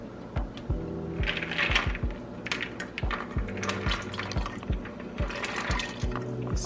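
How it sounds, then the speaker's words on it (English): Dry beans for a 15 bean soup rattling and splashing as they pour into a pot, with a run of irregular clattering hits and watery sloshing, close and fairly loud, no talking. "I'm going to go ahead on and add my beans to the pot."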